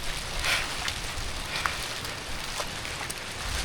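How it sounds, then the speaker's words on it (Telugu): Heavy rain on the Dudhsagar waterfall trek, a dense, even wash of hissing noise with scattered patters and drips, steady and moderately distant, with no voices. "వర్షం వీర భయంకరంగా పడ్డది."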